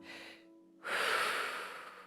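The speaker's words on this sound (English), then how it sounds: "I wanna teach you guys the 360 breath." A single deep breath from a 360-breath breathing exercise is taken close to the microphone: a short soft intake, a brief pause, then a long, full, airy breath that slowly fades.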